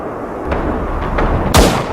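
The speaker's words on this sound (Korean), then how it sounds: "갑작스럽게 들려오는 총소리" Gunfire in a Korean war film, several sharp, loud shots over a rumbling background, with the heaviest blast near the end.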